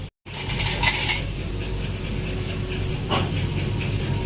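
A metal kadai is lifted off a stove with a clattering metallic clank, followed by a lighter knock a few seconds later over steady kitchen background noise.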